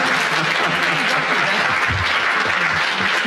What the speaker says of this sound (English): the audience are clapping